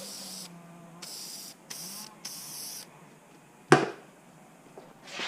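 Reel Magic spray is applied to a spinning fishing reel in four quick hissing bursts, followed by a sharp knock and a softer final puff, close and distinct.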